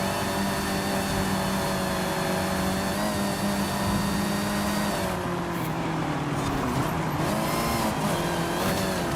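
A racing car engine in a video game drones loud and steady throughout, its pitch holding then shifting as it revs through gear changes, with no talk over it.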